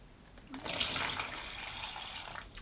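About half a litre of water pours briefly into a Graco Ultramax container with a flex liner, a short splashing rush close by that continues steadily.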